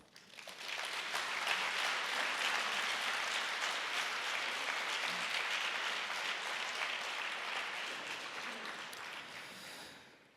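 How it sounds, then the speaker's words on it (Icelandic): An audience at an Icelandic art event applauds Níels Hafstein, a dense, sustained round of clapping that swells quickly, holds steady for about nine seconds, then fades. "Gefum Níels Hafstein gott klapp."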